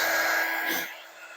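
A hair dryer blows a steady airy whir over a quilt block, then its pitch drops and its motor noise fades as it is switched off or moved away.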